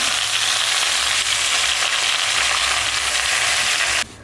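Garlic cloves fry in hot oil in a pan for a Tamil thuthuvalai rasam, giving a steady, close broadband sizzle that holds evenly throughout before cutting off abruptly near the end.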